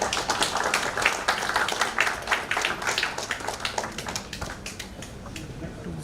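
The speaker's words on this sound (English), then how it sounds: "Please welcome him with a warm round of applause." At a department gathering, an audience claps for the arriving head of department in a crowd of sharp, close hand claps that gradually thins and softens toward the end.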